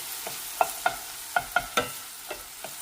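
Something sauteing in a pan before beans go in for bean burritos, a soft sizzle under a series of sharp metallic taps and scrapes of a utensil against the pan, close by.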